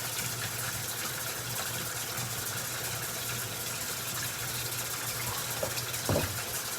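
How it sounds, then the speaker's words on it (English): Water pours steadily into a pan for brownie batter, a continuous close gush and splash holding at an even level throughout with no talk. "so here's 1/4 cup of water going into the pan."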